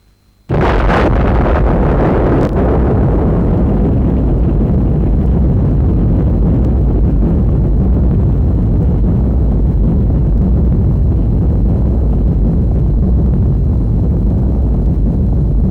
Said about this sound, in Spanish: pude ver la explosión de la bomba